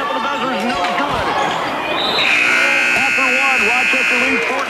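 A loud, sustained buzzer sounds midway through a high school girls' basketball game, coming over crowd noise, bouncing and a radio play-by-play commentator talking.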